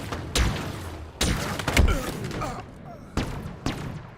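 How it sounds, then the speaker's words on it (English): Sniper rifle shots in the video game Destiny 2: several sharp, booming cracks with heavy low thumps, spaced irregularly over a few seconds, each fading quickly into a noisy game backdrop. "Oh, sniped. I was like, what killed me? Sniper rifle."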